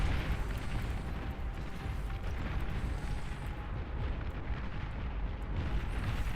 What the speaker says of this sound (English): It's got the Gauss cannons here.